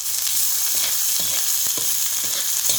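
Onion, green chillies and garlic frying in oil in a pan, a steady close sizzle with occasional stirring scrapes throughout.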